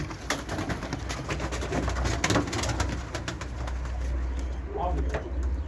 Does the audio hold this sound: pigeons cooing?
yes